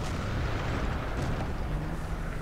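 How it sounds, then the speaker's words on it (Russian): Artillery shells strike in the tank game War Thunder, making a continuous, heavy rumbling roar of overlapping explosions with scattered booms and pops, dense and loud throughout. "Сейчас тут артиллерия будет наша бомбить."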